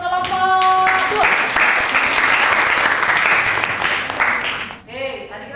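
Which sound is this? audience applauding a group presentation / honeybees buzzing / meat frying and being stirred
audience applauding a group presentation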